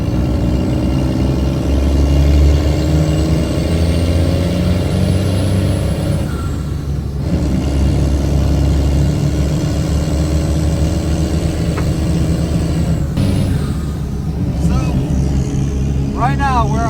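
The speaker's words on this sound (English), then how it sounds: "So let's go get this truck warmed up really quick and see if the heat starts to work." A 40-inch lifted monster truck idles to warm up, its deep steady engine rumble running throughout with brief hissing bursts, and people talk over it.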